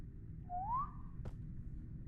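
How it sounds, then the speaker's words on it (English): In the haunted-house horror video game Coincidences, a single faint whistle rises briefly in pitch against a low background hum, followed by a sharp click, with no one talking. "Did you hear that whistle?"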